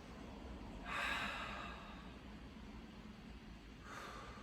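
Two audible breaths during a yoga flow: a strong inhale-like rush of air near the start, then a softer breath near the end, over a steady low background hiss.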